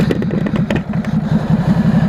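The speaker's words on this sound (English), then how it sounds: "Ducati Super Sport S, pure sound." Ducati Super Sport S motorcycle engine idling nearby with a loud, lumpy, pulsing beat and some mechanical clatter, heard on its own without talk.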